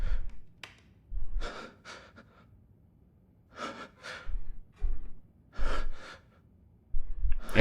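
Heavy, loud breathing from a character in Resident Evil Village: repeated close gasping inhales and exhales in an uneven rhythm, with short quiet gaps between breaths.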